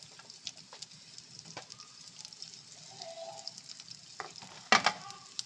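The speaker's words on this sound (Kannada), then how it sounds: "ಈಗ ಈರುಳ್ಳಿ ಹಾಕ್ಕೊಳ್ತಾ ಇದ್ದೀನಿ. ಈರುಳ್ಳಿ ಫ್ರೈ ಮಾಡ್ಕೊಳ್ಳೋಣ ಫಸ್ಟ್" Onions frying in hot oil for a country chicken curry give a faint, steady sizzle with scattered small crackles, then a short louder clatter near the end.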